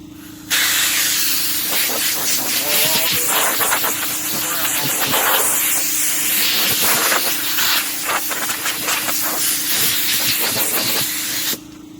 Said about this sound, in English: so blow off your area. Let's see, I'm gonna use my blower